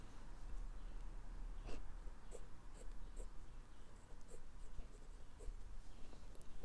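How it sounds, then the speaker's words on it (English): Pen strokes on paper as the Chinese characters for Nepal are handwritten, faint quiet scratches arriving in short separate strokes with near silence between them. "Follow me to write Nepal in Chinese."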